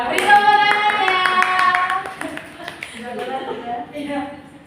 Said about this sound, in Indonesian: Ya, beri tepuk tangannya.